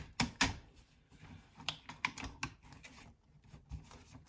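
Keyboard of an Atari 600 computer being handled during a repair, giving a run of close clicks, clacks and rattles of plastic keys and parts in uneven bursts, with no talk.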